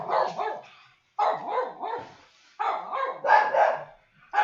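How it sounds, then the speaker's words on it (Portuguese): Several dogs barking nearby in bursts of sharp, repeated barks with short pauses between volleys, loud and close, with no one talking. "E os cachorros estão fazendo um barulho"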